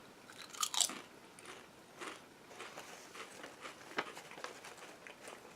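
Melon cream soda flavoured potato chips crunch between the teeth in a run of crisp bites and steady chewing, loudest in the first second and then softer and irregular, close up with no talking.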